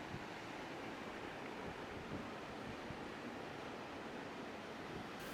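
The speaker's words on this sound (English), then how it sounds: "So this is the Truso River" The Truso River flowing through the Truso Gorge in Georgia's Caucasus mountains, a steady, broadband rushing wash heard outdoors with no voices, constant in level throughout.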